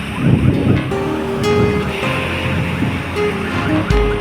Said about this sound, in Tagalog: kasi malakas yung alon